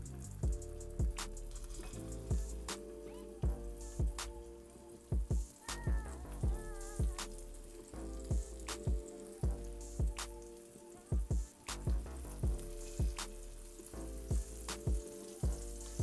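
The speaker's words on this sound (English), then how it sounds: "Just gently fry off your liver." Chicken livers fry in a hot pan, a continuous close sizzle with repeated sharp crackles and pops throughout.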